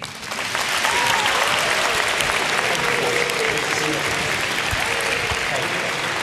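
Studio audience at a Virginia Senate town hall debate applauds as a candidate comes to the stage, a loud, steady wash of many hands clapping that swells in and sustains throughout.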